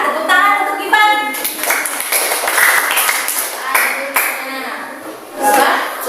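A classroom of students claps during a Pancasila lesson, a dense patter of hand claps running steadily with voices mixed in and a louder burst near the end.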